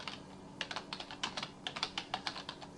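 Quick, light keystrokes clatter on a computer keyboard in an irregular run of taps, close and fairly quiet with no talking.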